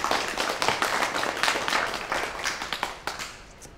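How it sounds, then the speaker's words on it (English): A small audience at a live music showcase claps after a performance, with distinct individual claps in an uneven patter. The applause gradually thins and fades out. "Let's give another round of applause for AJ."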